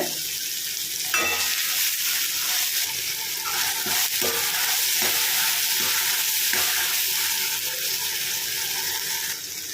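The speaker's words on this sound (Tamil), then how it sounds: "தக்காளி நல்லா வதங்குறது கொஞ்சம் உப்பு சேர்த்துருக்கோங்க" Chopped tomatoes with a little salt sauté in a hot pan for a spring onion sambar, giving a continuous sizzle broken by scraping stirs of a spoon against the pan, with no talking.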